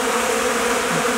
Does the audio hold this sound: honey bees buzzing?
yes